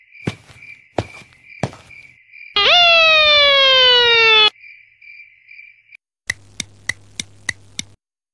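A police car siren gives one short rising, steady electronic wail between sparse clicking footstep-like taps and faint insect chirps, loud and close, with no talking.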